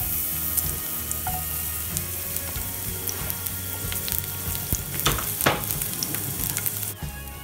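Garlic frying in a little oil in a pan over medium heat for a tamarind squid dish, a steady close crackling sizzle with scattered louder pops and stirring scrapes.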